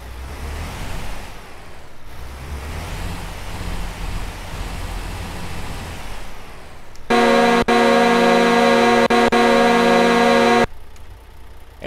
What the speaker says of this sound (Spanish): Esa fue la bocina de aire estándar, la que pueden tener todos los camiones.